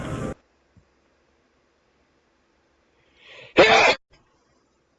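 A person sneezes once, loud and close, with a faint intake of breath just before it. A short burst of noise opens the sequence, and the rest is near silence.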